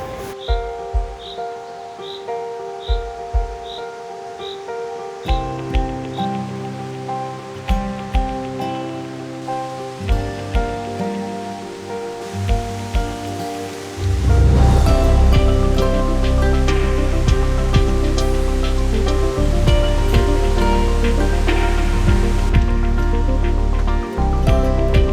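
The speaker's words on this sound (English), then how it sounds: "So the name of the waterfall is the Rhinebeck waterfall." The Rhinebeck waterfall rushes as a steady, broad roar that swells much louder about halfway through, with tonal sounds layered over the water.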